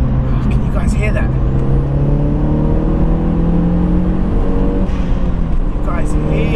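A tuned Badger5 Seat Leon Cupra R Mk1 with a 287 bhp BAM engine, heard from inside while driving: a loud, steady engine drone whose pitch rises gradually, with a constant road roar beneath and a person talking over it.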